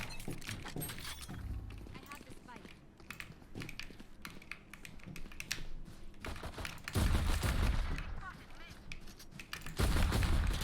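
Gunfire from Chamber's weapon in the tactical shooter Valorant, dense crackling bursts with heavier volleys near the end, mixed with game effects and keyboard clatter throughout.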